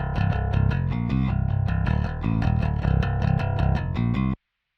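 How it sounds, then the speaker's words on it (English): A clean, dry Warwick bass guitar recorded direct into an interface plays a steady riff of plucked notes, full and low, alone with no other instruments, stopping abruptly near the end. "This is just the bass guitar going straight into the interface."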